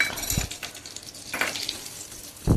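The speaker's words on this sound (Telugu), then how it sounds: "ఉసిరి ముక్కలు ఎండబెట్టుకున్నాం కదా, అవి తెచ్చి ఈ ఆయిల్లో ఫ్రై చేసుకోవాలి. ఇలా ఫ్రై అవుతుంది కాసేపు" Dried amla (Indian gooseberry) pieces fry in hot oil for a pickle, giving a steady soft sizzle with a few sharp clinks of a utensil against the pan near the start, the middle and the end.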